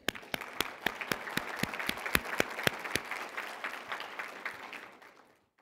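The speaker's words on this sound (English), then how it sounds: "So I want all of us to give a round of applause for this tremendous" Audience applause at a public-health scientific conference closing ceremony: a few sharp nearby claps ring out over a full round of clapping that builds quickly, holds, then tapers off to silence.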